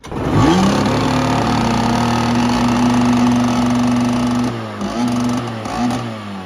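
A snowmobile sled fitted with a swapped Jammer 650 engine revs up hard and holds a loud, rough, steady drone close by, then dips and surges briefly near the end, with no talking.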